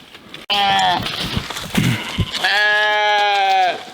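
Sheep fed green tomatoes bleat twice on a farm, a short wavering call followed by a longer sustained one, fairly close and clear, with a brief gap of rustling between.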